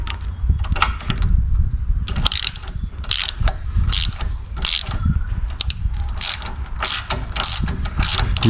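A hand ratchet clicks in quick bursts of rapid pawl ticks while starting a bolt's thread on parts for a Toyota 79 Series build, close and loud with short pauses between strokes.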